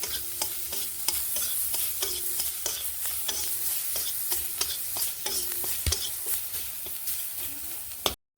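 A blackened onion paste frying in a hot kadai, stirred with repeated rhythmic scraping strokes of a spatula against the metal over a constant close sizzle, ending abruptly.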